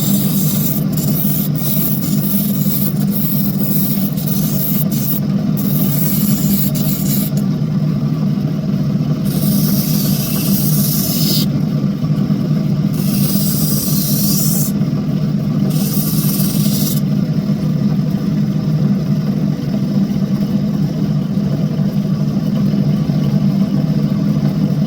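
A grinding wheel works down a Coober Pedy crystal opal, its loud, steady whirring hum running continuously, with periodic hissing bursts of abrasive rubbing as the stone is pressed against the wheel.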